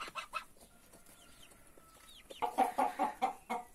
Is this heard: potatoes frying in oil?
no